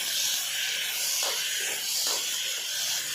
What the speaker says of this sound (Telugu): అందులోనే 2 కట్ చేసి పెట్టుకున్న టమాటో ముక్కలను కూడా యాడ్ చేసి ఫ్రై చేయండి